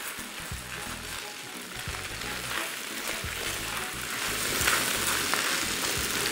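Beef chow fun noodles stir-fry in a pan, a steady moderate sizzle with soft scraping and tossing underneath, with no voices heard.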